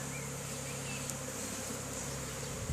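A caught honeybee swarm buzzes inside a cedar hive with an insulated roof, a faint, constant droning hum with no talk over it.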